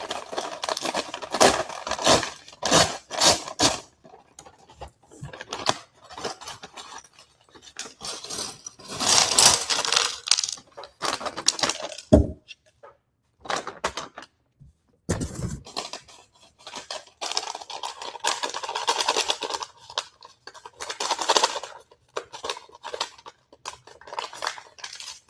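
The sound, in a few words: opening a plastic bag of LEGO pieces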